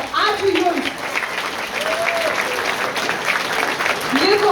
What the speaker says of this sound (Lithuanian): Plojimai jiems dar kartelį.